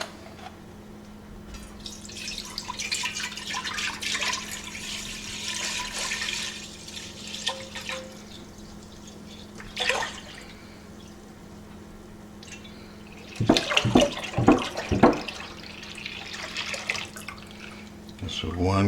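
A gallon of milk is poured into a pot in a kitchen, with a soft liquid rush, pauses, then a burst of glugging splashes near the end, close by.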